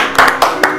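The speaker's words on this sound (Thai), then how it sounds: "ขอปรบมือให้คนแพ้เลยครับ" Several sharp hand claps on a Thai TV game show, three distinct bursts a fraction of a second apart, close and loud with no talk over them.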